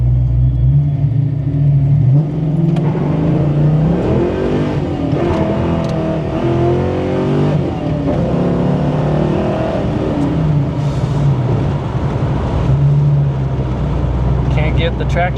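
Foxbody Mustang fitted with cheap aftermarket fuel injectors accelerating hard in a 0-60 run with poor traction, the engine roaring and rising through the revs, loud and close throughout, with voices talking over it.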